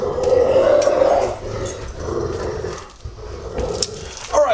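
Dogs growl and make playful noises close by, with some whines and yips in a noisy kitchen setting. A few clattery sounds come near the end.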